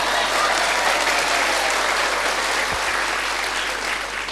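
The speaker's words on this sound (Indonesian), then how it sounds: "tepuk tangan yang keras" An audience claps loudly and steadily at a religious lecture in Garut, a dense, even burst of applause that fades slightly toward the end, with brief low thumps near the middle.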